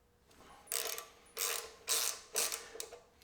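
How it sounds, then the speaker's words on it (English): A ratchet wrench clicks while removing the brake calipers on an Indian Scout motorcycle, in four separate bursts of fast pawl ratcheting, close and clear in a quiet workshop. "And now let's get the brake calipers off."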